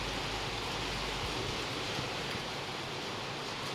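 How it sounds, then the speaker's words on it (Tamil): Light drizzling rain outside a house at night, a steady broadband hiss with no distinct drops, constant and fairly loud throughout with no talking. "மழை தூரிகிட்டே இருக்குது."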